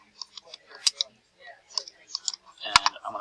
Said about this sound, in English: I'm going to start typing in my values